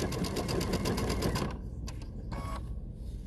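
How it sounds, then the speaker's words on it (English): A sewing machine stitches quilt pieces with a rapid, steady mechanical whirr for about a second and a half, then stops. A few brief clicks and fabric shuffles follow, close up and with no speech. "And then I'm going to sew."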